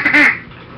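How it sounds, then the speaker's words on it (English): A Duck Commander Uncle Si duck call gives a single loud, close mallard hen quack, brief and slightly raspy, fading quickly with no talk. "I'll show you what the call kind of sounds like into my duck commander Uncle Si"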